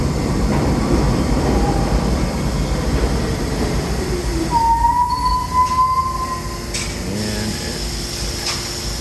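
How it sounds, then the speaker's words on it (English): A New York local subway train on the 1 line rumbles in loudly, then its wheels let out a long high squeal as it slows, with a few sharper metallic screeches after. "So this is a local train going down to South Ferry."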